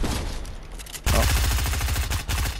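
An enemy player in a Fortnite Chapter 2 match fires a rapid, rhythmic string of gunshots that grows louder partway through, with no talking over it.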